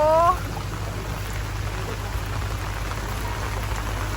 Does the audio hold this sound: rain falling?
yes